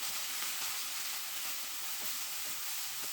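Chopped onion and tomato pieces sizzle steadily in a hot pan for okra curry, a continuous close frying hiss with a few faint stirring ticks and no voices.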